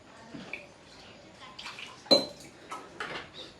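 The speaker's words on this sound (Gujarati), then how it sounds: "વાસણ ધોવાનું ચાલુ છે" Dishes being washed nearby: scattered clinks of pots and utensils with splashing water, fairly quiet, and faint voices in the background.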